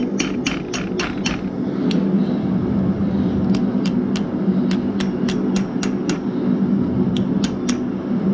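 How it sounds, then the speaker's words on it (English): Steel is hammered over the horn of an anvil while forging a bottle opener. Quick clusters of bright metallic strikes ring out close, with pauses between the groups, over a steady background roar. "going to go right over the horn of the anvil, start bending this around"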